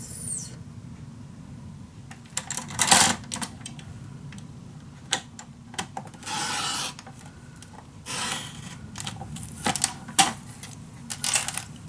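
Small paper pieces being cut for a craft desk storage box, with scattered short scraping and snipping bursts separated by quiet pauses, close and fairly soft.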